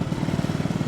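A tiny motorbike engine chugs roughly under load, a fast uneven putter with faint popping irregularities, close and loud without anyone talking.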